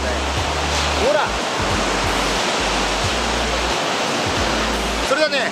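Surf breaking at a beach with good waves, a steady, close roar of rushing water and foam that stays loud and continuous throughout, with a faint brief whistling sound near the start and again near the end.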